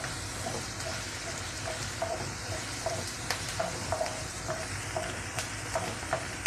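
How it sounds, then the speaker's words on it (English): Onions, curry leaves and red spinach sauté in a pan, a soft steady sizzle with light scraping and tapping of a spoon stirring at regular intervals, quiet and close. "Now I'll saute this for some time till the onions just change the color."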